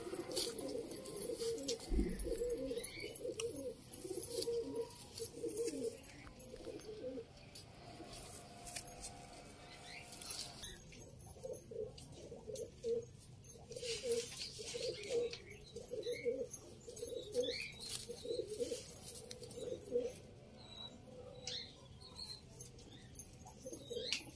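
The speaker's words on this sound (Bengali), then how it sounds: "এখানে মোটামুটি সব পায়রা আন্ধ্রা পায়রাই রয়েছে তো?" Andhra pigeons coo repeatedly in a loft, soft rolling calls near and far overlapping with chirps and light rustling throughout.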